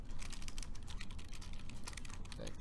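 Rapid clatter of keys on a computer keyboard while code is entered, dense and steady throughout, close and fairly loud with no talking.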